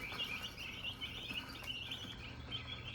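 Young meat chickens about two weeks old chirping, a close, continuous cluster of high peeps over a low hum.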